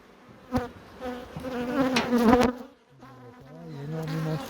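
Close buzzing of honeybees at an open hive, with droning wingbeats that rise and fall in pitch as insects fly near, plus a few brief clicks.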